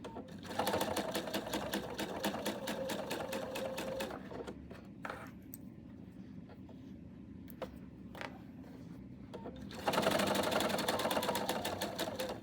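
A sewing machine stitches fabric at a longer stitch length in quick rapid bursts, loud and close, pausing in the middle with scattered mechanical clicks before running fast again.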